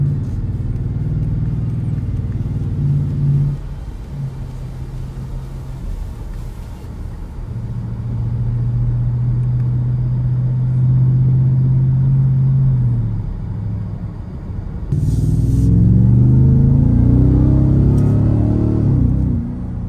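Cabin sound of a Ford Raptor R truck with its factory exhaust while driving through a neighborhood: a steady, loud low engine rumble that rises and falls with throttle, strongest in the final stretch.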